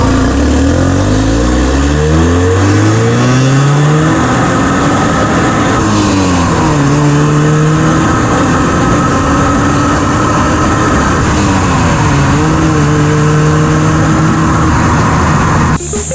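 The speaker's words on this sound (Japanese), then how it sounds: "エキゾーストというより、インマニの音がすごい車内で聞こえてきて" An Alfa Romeo 156 Twin Spark engine revs hard inside the car, its loud intake manifold note sweeping up and dropping back through repeated rises and falls over about sixteen seconds.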